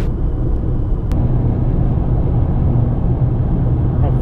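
A car cruises along a highway through Utah, its interior filled with a steady low road rumble and engine drone. No voices are heard over the hum.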